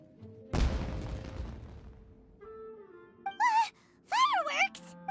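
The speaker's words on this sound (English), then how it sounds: "It sounded like fireworks." Video game fireworks go off as one loud, sudden boom that trails into a fading rumble, followed by voices talking.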